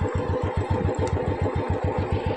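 A Royal Enfield Bullet motorcycle engine idles close by, a loud, steady thumping beat with evenly spaced pulses that never let up.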